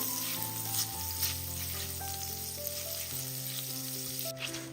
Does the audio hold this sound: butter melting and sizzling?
yes